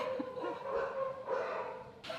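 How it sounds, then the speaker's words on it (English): Dogs barking in the distance, a steady run of muffled barks over a constant room hum. "dogs barking, it's that time of the day"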